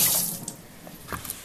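Tap water runs into a kitchen sink as an onion is rinsed before chopping, a steady splashing flow with small clatters and shifts as the onion moves under the stream.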